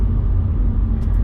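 An Audi S5 with a 4.2 V8 and six-speed manual gearbox rumbles steadily from the cabin, a deep continuous engine drone with no talking.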